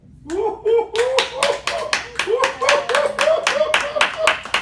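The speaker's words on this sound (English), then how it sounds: "Finger snaps, finger snaps, finger snaps, finger snapping." A rhythmic series of sharp finger snaps or claps repeats roughly twice per second after a poem in a radio studio, close and crisp, with a voice chanting along between them.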